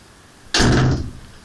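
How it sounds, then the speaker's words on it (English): A door bangs shut once, a single loud close thud with a brief rattling decay, heard alone against quiet room tone. "Now, there goes my door again."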